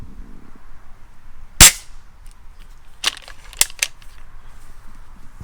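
A loud sharp snap from a single shot of an Umarex HK MP7 pellet air pistol, then two or three quieter clicks and clacks of a mechanism being worked, against a quiet background.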